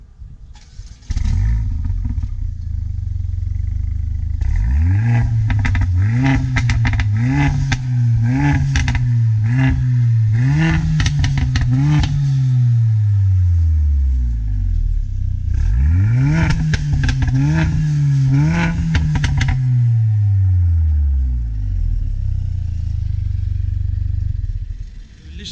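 Mercedes CLA45 AMG with a performance exhaust revs hard in two long bursts, the engine note rising and falling repeatedly with crackling pops between blips, loud and close.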